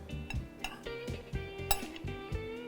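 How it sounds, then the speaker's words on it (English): Salsa being stirred in a bowl after fresh lime juice goes in, with a utensil clinking and scraping against the dish in a steady rhythm of soft taps, close and fairly quiet, no voices. "We're gonna stir it."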